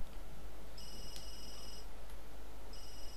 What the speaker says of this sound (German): Oh, da klingelt irgendwo das Handy.